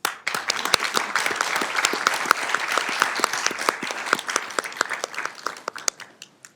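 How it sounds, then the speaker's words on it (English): Graduates at a Sacramento city council meeting receive a round of applause from the audience, a dense, steady clapping that runs for several seconds at fairly close range and thins out toward the end. "give all of our graduates a round of applause"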